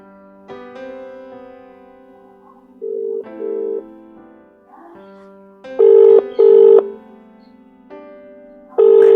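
A telephone call being placed to a family member: a sequence of steady electronic tones and beeps, dialing followed by ringing pulses, clear and fairly loud with no voices.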